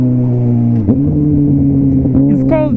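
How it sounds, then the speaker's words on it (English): A motorcycle engine blips upward in a short rev as it downshifts with rev matching, then settles into a steady loud hum before another quick rise near the end, close by and alone. "it's called downshifting with rev match"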